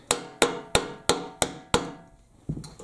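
Six sharp, evenly spaced metallic taps knock on a French horn rotor to free its bearing, then one duller knock after a short pause.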